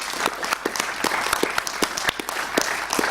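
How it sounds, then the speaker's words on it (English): Applause at a council meeting for frontline staff: a short burst of many hands clapping at a steady, dense rhythm, moderately loud and close, with no talking over it. "could we have a round of applause for our frontline staff"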